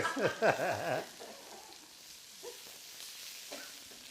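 Onions tossed into a hot pan at a cooking demonstration, a brief clatter followed by a soft, steady sizzle that fades to faint crackles.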